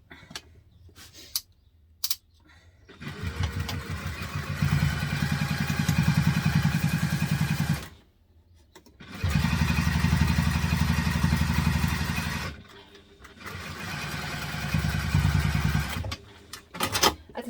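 A sewing machine top stitching a teddy backpack runs in three long bursts of rapid, steady needle clatter, separated by brief pauses with light handling noises.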